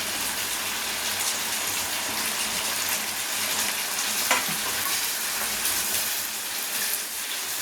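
Chicken frying in a pan with coriander leaves, cooked until dry: a loud, continuous, close sizzle with crackling oil and no talking.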